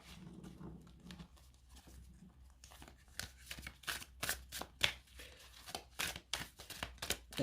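A tarot deck on somewhat cardboard-like cardstock is shuffled by hand without riffling, giving a close run of quick, soft papery slaps and flicks that grows busier and more rhythmic partway through.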